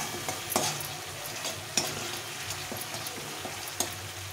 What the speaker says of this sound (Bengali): এটা দিয়ে ভালো করে এখন কষিয়ে নেব।